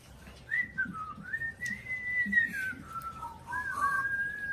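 A person whistles a wavering, sliding tune up close, one continuous melodic line with rising and falling pitch over faint background noise and no talk.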